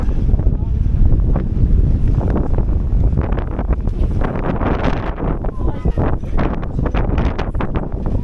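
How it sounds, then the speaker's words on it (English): Strong gusty wind roars steadily and buffets the microphone for several seconds in Edinburgh, Scotland, with faint voices mixed in. "Hear that wind blowing?"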